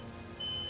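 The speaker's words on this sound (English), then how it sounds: "she just set off the smoke detector" Smoke detector set off by cooking upstairs, a thin steady high-pitched beep tone starting partway through and holding, faint and somewhat distant over low room noise.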